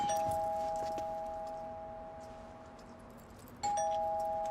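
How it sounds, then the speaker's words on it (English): A two-tone doorbell chime rings out clearly, then sounds again a few seconds later against a quiet background. "So they go onto the porch and ring the doorbell."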